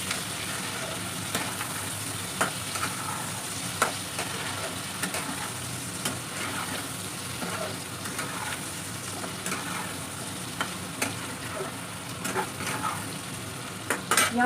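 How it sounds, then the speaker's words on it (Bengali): Chopped onions fry in a pan with a constant bright sizzle, and occasional light clinks of a spoon or spatula stir through it; no one speaks. "পেঁয়াজটা দিয়ে ভাজবো, লাল লাল করে পেঁয়াজটা একটু ভাজতে হবে।"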